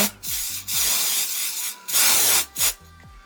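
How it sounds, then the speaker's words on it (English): Several bursts of glitter spray hissing from an aerosol can, one long spray and a few shorter ones, with faint rubbing sounds in the quiet gaps. "Just going to coat it in the spray."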